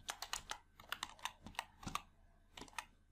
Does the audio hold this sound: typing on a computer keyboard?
yes